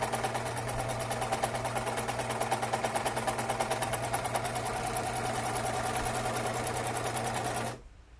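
A serger overlock sewing machine stitches fabric with its right needle tension loosened, running in a steady, rapid mechanical whir for several seconds before stopping abruptly. No voices are heard.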